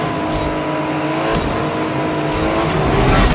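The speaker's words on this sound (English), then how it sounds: "racer Sour Sweet is now going to be competing at Watkins Glen for the very first time in a Nissan GTR R35." A Nissan GT-R R35 race car in Forza Motorsport 7 at Watkins Glen roars loudly and steadily, with brief bursts of high hiss or tire noise over a continuous engine drone and no talk.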